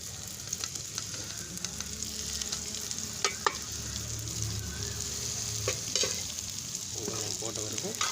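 Pork intestine sizzles steadily in a hot pan while a utensil stirs and scrapes it at intervals, the frying close and continuous throughout.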